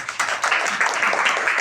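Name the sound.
children clapping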